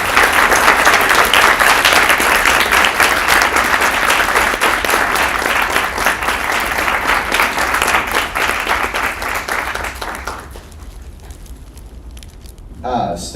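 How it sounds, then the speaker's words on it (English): Loud, sustained audience applause fills a hall as judges depart an Okuma Shigenobu Cup event, dense and steady for about ten seconds before cutting off into quieter room noise, with a brief stir near the end. "let's rise once more and offer them a hearty round of applause"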